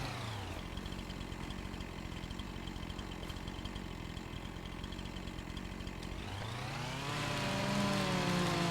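A tractor engine in a farming video game drones steadily and loudly throughout, its pitch rising near the end as the engine revs up.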